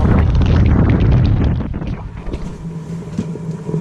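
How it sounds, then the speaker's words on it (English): Strong wind buffets the microphone aboard a sailboat at sea on a crossing to Cuba, a loud roaring gust that eases after a moment into softer, uneven rushing. "We have finally get some better wind."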